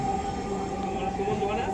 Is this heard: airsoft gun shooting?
no